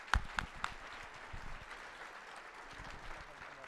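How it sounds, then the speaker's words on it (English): A conference audience applauds a first-place prize winner at a security convention's closing ceremony, with a few sharp claps up front followed by a sustained, moderate wash of clapping across the room. "So everybody clap for that."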